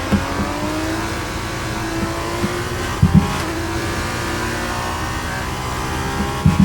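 An F2 race car engine in the F1 23 video game at the Miami circuit holds a steady high drone on the final lap, with a few brief thumps partway through.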